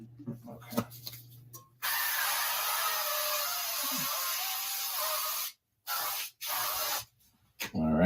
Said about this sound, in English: All right, spray your pan.